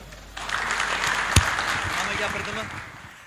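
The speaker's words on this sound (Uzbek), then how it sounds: "Yana ham jarangli qarsak" An audience at a company anniversary celebration applauds in a dense, steady burst of clapping that swells and then slowly fades, with voices talking underneath.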